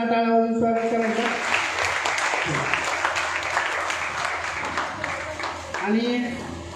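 An audience at a coaching class's SSC results event gives sustained applause to welcome a student topper, with a voice speaking at the start and again near the end.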